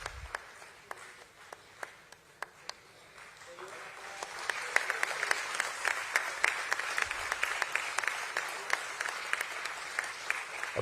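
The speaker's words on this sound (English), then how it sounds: "A huge round of applause, ladies and gentlemen." An audience applauds at the Jio Financial Services listing event, opening with scattered sharp individual claps that swell after a few seconds into fuller, steady applause heard from some distance.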